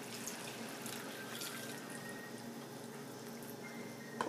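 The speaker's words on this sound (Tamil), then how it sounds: "இப்போ நான் வாட்டர் ஆட் பண்ண போகிறேன்." Water poured into a pot of chicken biryani rice coated in masala, a steady splashing stream running continuously with faint clinks, close and fairly quiet.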